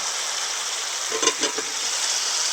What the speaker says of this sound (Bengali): এবার গ্রেভিটাকে কিছুক্ষণ ফুটিয়ে নেব। দেখুন মশলা থেকে খুব ভালোভাবে তেল ছাড়া আরম্ভ করে দিয়েছে।